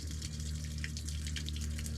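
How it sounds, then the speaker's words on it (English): Water splatters and gushes continuously from a blocked kitchen drain pipe, a steady close hiss of spray over a low droning hum, with no voices. "what actually is coming out is just the splatter from coming down the wall"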